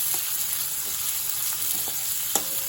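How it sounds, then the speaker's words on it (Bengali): Chopped onions frying in hot oil in a pan, a steady close sizzle and hiss with a few faint scrapes of stirring, no voices. "এই অবস্থায় দিয়ে দেব কুচনো পেঁয়াজগুলো। আবার একটু নাড়িয়ে দেব।"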